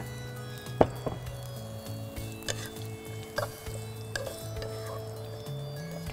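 About a cup of onion sizzling in roughly four tablespoons of hot oil in a pan, a steady frying crackle punctuated by a few spoon or utensil knocks and stirring clatters.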